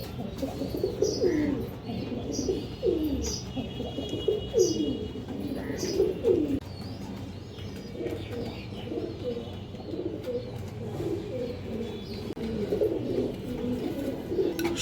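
A pair of silver Beji-line pigeons and their small chicks coo in repeated rolling phrases, strongest in the first few seconds, then settle into a softer, continuous murmur of cooing close by.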